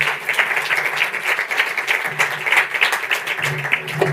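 Sustained audience applause fills a conference auditorium at a Python event in Portugal, dense steady clapping from a crowd lasting the full stretch with no voices over it.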